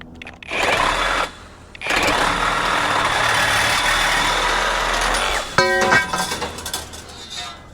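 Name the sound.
Hercules 20v brushless reciprocating saw cutting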